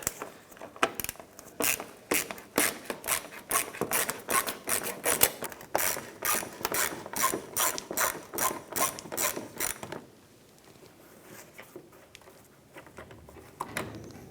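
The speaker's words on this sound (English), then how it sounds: "Using a 7mm socket, I'm going to start by removing these two screws right here." A ratchet fitted with a 7mm socket spins out screws on a 2006-2013 Chevrolet Impala bumper, giving a close, fast run of sharp clicking pawl strokes for about ten seconds before fading to quiet.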